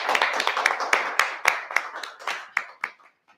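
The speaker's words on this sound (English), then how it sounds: "Can we just clap for Ike a little bit more?" A small audience claps for a man called up at a live masterclass event in Dubai, a few dozen distinct hand claps fairly close, thinning out and stopping near the end.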